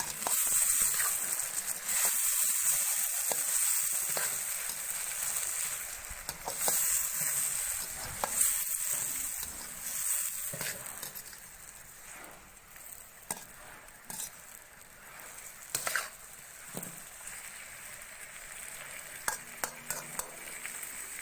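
Bitter gourd (karela) and potato fry and get stirred together in a pan for a karela aloo curry, giving a steady close sizzle with repeated scraping and clanking spatula strokes that ease off in the later half.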